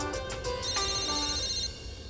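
A phone rings with a melodic electronic ringtone, a repeating pattern of tones at moderate volume, with no one talking.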